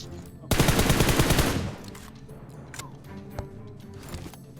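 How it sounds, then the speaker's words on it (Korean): Rapid automatic gunfire in a shooting video game, a loud dense burst for about a second, followed by quieter scattered shots and in-game ambience. "강 반대쪽에서 쏜다"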